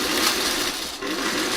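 Sewing machine stitching fabric for a birdhouse project, a steady continuous mechanical whir running close and fairly loud throughout, with a brief dip partway through.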